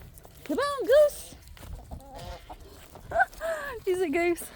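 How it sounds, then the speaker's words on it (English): Backyard chickens clucking and squawking at feeding time on a small-town Alabama property, a run of loud close calls in bursts with quieter murmurs between, alongside faint rustling. "let's head home and get these chickens fed"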